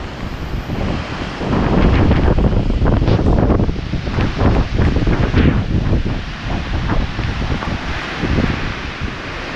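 Strong typhoon wind roars over a roadside on high ground near a house, with only light rain, a loud, continuous broadband rush that surges and buffets the microphone, swelling in gusts with no break.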